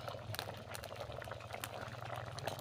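A pot of water with vegetables boils at a steady bubble, with a soft continuous rolling burble and small pops, close and alone.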